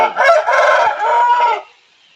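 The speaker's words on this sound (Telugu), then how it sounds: "ఈ కోడిపుంజు వచ్చి ఎర్రమైల" An Erramaila fighting rooster, a Telugu pandem kodi breed, gives a single loud, close crow lasting about a second and a half, then falls quiet.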